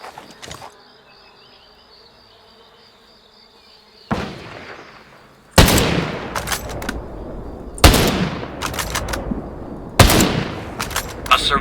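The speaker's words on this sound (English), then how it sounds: "I hear gunfire." Bursts of rapid video game gunfire crack out in several volleys, loud and close, after a quiet stretch with a faint electronic hum; no one speaks.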